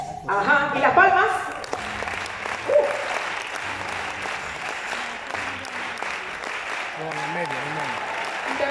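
Applause from a concert audience at a symphonic tribute show rolls on steadily after a musical phrase ends, with a voice speaking over the clapping.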